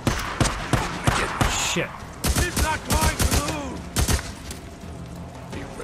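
Assault rifle fire in the Days Gone video game: loud, close bursts of rapid shots in clusters, with a voice briefly heard between volleys.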